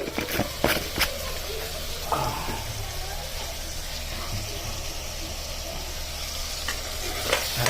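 Turmeric and spices stirred into eggplant and potato curry in a pan, giving a steady close sizzle with a few sharp spoon scrapes and clicks near the start and end.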